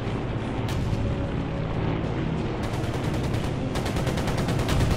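A heavy aircraft machine gun fires in Air Conflicts: Pacific Carriers as rapid bursts of rattling shots ride over a constant loud engine roar, with two sustained strings of fire in the latter half.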